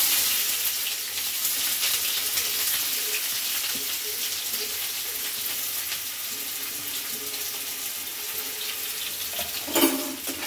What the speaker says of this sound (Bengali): পেঁয়াজগুলো হালকা লাল করে আমি ভেজে নেব।